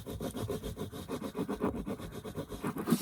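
Fabric is rubbed back and forth over a thrifted clipboard during a fabric-covered makeover, producing a continuous rhythmic scraping and brushing close by, with no talking.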